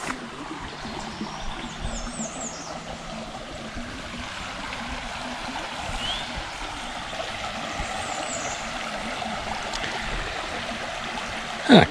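The North Branch Whitewater River at Carley State Park near Plainview, Minnesota, flows as a steady broadband rush of water, even and moderately close throughout, with faint bird calls in the background.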